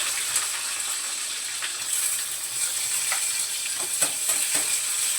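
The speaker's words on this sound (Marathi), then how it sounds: "कढई गरम झाली तेल टाकते आणि आज मी ओलं खोबरं नाही घेतलं यामध्ये फक्त सुकंच खोबरं घेतलं आहे" Dry coconut fries in oil in a hot kadhai for a chicken dish, a steady bright sizzle with a few small clinks scattered through it.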